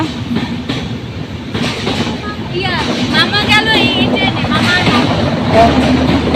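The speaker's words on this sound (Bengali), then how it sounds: "এইখানে দিয়া ঢাকার ট্রেন যায়" A nearby train bound for Dhaka rumbles past close to houses with rhythmic clickety-clack of wheels and screeching metal, growing louder, while voices talk over it.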